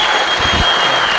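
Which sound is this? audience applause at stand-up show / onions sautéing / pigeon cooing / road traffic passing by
audience applause at stand-up show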